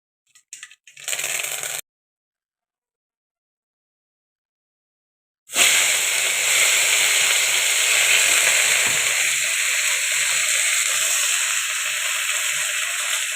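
Curry leaves and mustard seeds dropped into hot oil in a pan for avial, a loud steady sizzle and crackle that bursts in after a brief silence and continues close up without talk.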